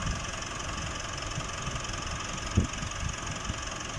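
A Nissan NV350 Urvan van engine, which has a turbocharger overboost fault, idling steadily at low volume with a constant hum and one brief knock partway through. No one speaks.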